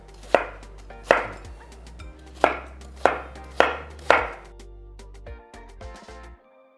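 A knife cuts watermelon into pieces on a cutting board: six sharp, evenly spaced chops land close and alone, followed by a few softer knocks as the pieces are moved.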